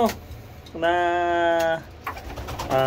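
A pigeon coos in a long, droning call, followed by another coo starting at the end, close and clear.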